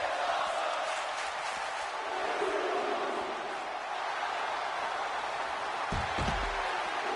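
Crowd at a professional wrestling show roars with a dense, sustained cheer and din at steady loudness, broken near the end by a couple of dull thuds.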